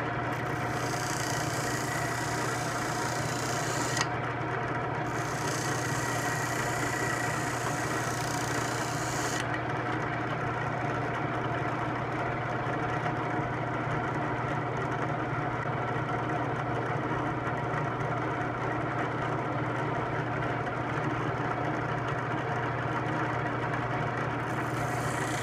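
A homemade spinning wooden knife sharpener with a coated wheel runs with a constant motor-like whir, and a blade rubs against it in a steady grinding hiss that stops partway through while the hum carries on.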